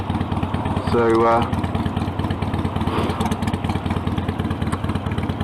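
A motorcycle engine drones steadily as the bike is ridden, its rapid pulsing even and close throughout, with a brief spoken word near the start.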